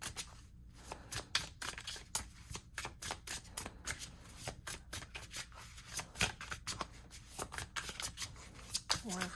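Tarot cards shuffled by hand in a long run of rapid, papery riffling flutters, close and fairly soft, with no voices.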